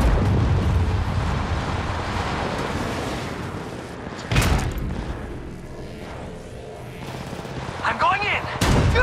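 Gunfire in a battle royale video game shooter, rapid bursts of shots and booming blasts mixed with game noise, with players talking over it.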